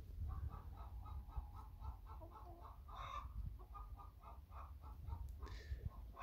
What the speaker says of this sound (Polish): A tutaj kogut.